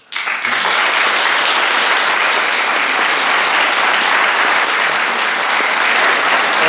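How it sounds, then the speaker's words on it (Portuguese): A church congregation bursts into loud, dense applause for Jesus during a priest's talk, the clapping starting abruptly and holding a steady, full roar to the end. "Palmas para Jesus."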